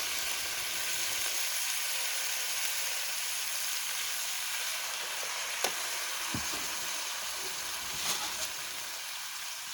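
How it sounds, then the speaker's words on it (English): Rice sizzling in a pan with a little water added to steam it at an Ohio campsite, a steady hiss and crackle throughout with a few brief clinks and stirring sounds. "Just add a little water to the rice to help steam it."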